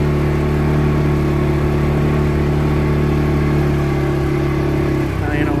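A 2022 CForce 500 ATV engine drones steadily at a constant mid-pitched hum while cruising on a high mountain desert trail, loud and close, then eases off near the end as the tone dips.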